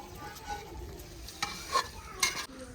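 Chicken is stirred and fried in masala with garlic-ginger paste, giving a soft steady sizzle with a few scraping stirs of a utensil against the pan, heard up close and without talk.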